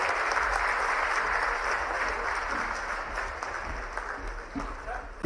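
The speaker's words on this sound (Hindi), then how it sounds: "एक बार जोरदार तालियां बजाएं।" Audience applause at a large Indian public ceremony, a broad roar of many hands clapping loudly and continuously, easing slightly toward the end before a sharp knock closes it.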